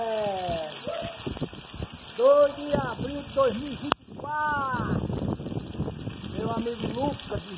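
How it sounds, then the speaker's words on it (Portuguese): Heavy rain patters steadily in the background in the Brazilian Northeast sertão while a person talks over it in Portuguese, the voice louder and nearer than the falling water. "Desde a madrugadazinha que chove."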